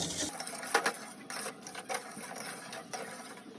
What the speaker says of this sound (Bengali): জল আর চিনিটা আমি খুব ভালোভাবে মিশিয়ে নেব